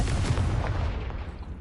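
A Confringo fire spell blast in Hogwarts Legacy, a loud booming explosive burst up front that rumbles and fades away over a second or so.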